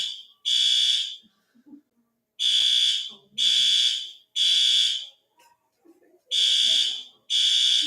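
A building fire alarm blares in loud, evenly pitched electronic bursts about a second long, separated by short gaps, with brief faint voices and rustling heard between the tones.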